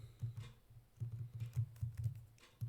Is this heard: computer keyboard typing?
yes